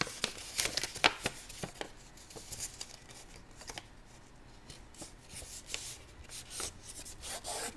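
Paper being folded and creased by hand for a school project. Quiet close rustling and rubbing with a few sharper crinkles, no talking.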